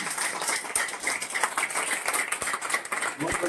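Audience at a business talk applauding together, a dense, sustained patter of many hands filling the room at moderate loudness, with speech faintly underneath.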